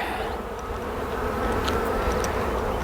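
Honey bees buzz steadily and close around a freshly marked queen, a dense continuous drone of many wings with no talk over it.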